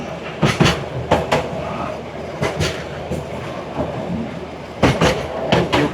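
Train on the Shargan 8 narrow-gauge railway in Serbia with a steady rumbling roll and a few sharp clacking bursts from the wheels and cars.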